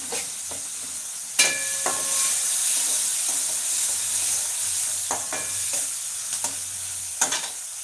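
Steady hissing sizzle of onions, ginger and garlic frying in a pan, with occasional clinks and scrapes of a spoon stirring, close and continuous.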